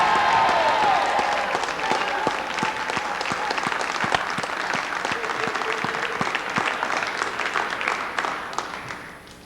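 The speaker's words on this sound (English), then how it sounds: "Give him a loud cheer." Crowd cheering and applause at a cricket match, a broad, loud roar of clapping and voices that starts strong and slowly thins out, with sharp individual claps poking through the wash.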